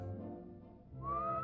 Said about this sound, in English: Also, whistle singing is stupid.